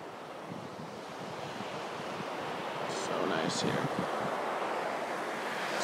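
Ocean surf washing onto a beach near Montezuma, Costa Rica, a steady broadband roar with wind buffeting the microphone and a slight swell in loudness toward the end.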